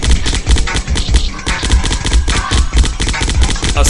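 Rapid, loud bursts of assault rifle fire from the flash game Zombocalypse, repeating in a fast, steady rhythm for the whole stretch.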